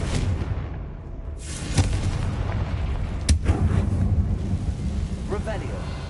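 A Confringo fire spell explodes in Hogwarts Legacy on PS5, bursting out over steady windy, rumbling game ambience with a couple of sharp cracks and no talking.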